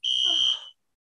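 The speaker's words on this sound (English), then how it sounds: "they're going to start testing the fire alarm." A building fire alarm under test gives one short, loud, piercing electronic tone that holds for about half a second and then cuts off, with no voices around it.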